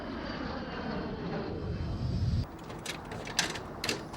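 An F-16 Fighting Falcon fighter jet at the Waddington airshow, a low rumbling engine roar that drops away after a couple of seconds, followed by quieter clicking and rattling noises.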